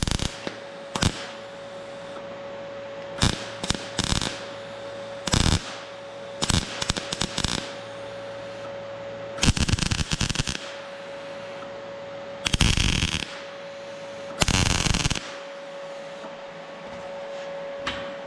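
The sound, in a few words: tack welding on air-cooled VW sheet metal tinware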